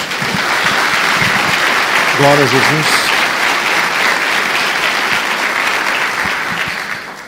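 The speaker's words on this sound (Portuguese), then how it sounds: "Dê uma salva de palmas ao Senhor." A church congregation applauds loudly and steadily throughout, with a voice briefly calling out over the clapping.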